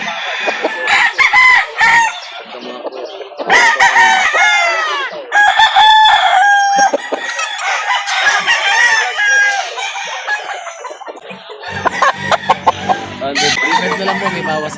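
Roosters at a poultry market crow repeatedly and loudly, overlapping calls and clucks in bursts, close and dense, with other fowl around.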